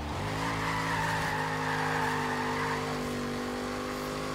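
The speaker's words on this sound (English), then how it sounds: "Nice long slide for the big old Impala." Chevy Impala SS 409 in the Forza Horizon racing game sliding through a long tire-squealing drift, the engine droning steadily underneath at a loud, close level for the whole stretch.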